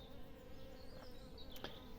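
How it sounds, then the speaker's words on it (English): Scouting honey bees buzz around a bait hive in a continuous, close insect drone, with individual bees flying past and their pitch sliding as they come and go. "So these, normally scouting bees can be up to 500 bees"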